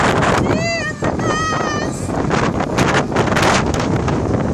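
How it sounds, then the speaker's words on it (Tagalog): Strong wind roars and buffets against the microphone throughout on a Windseeker amusement ride, with a person's voice calling out briefly over the rushing air. "Hindi, hangin lang yan, Renz."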